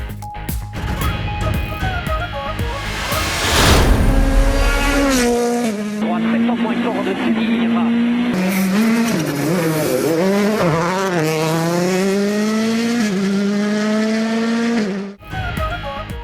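Rally cars racing at the Monte Carlo Rally, engines revving and whining through gear changes with tire noise, loud and close, while a voice speaks over the action.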